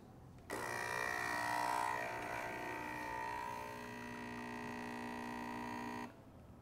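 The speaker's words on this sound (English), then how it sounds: "I'm going to press the small espresso button in this case" A Nespresso Pixie espresso machine brewing a short shot: a steady, buzzing pump hum with a tonal whine starts abruptly, holds evenly for about five and a half seconds, then cuts off into quiet.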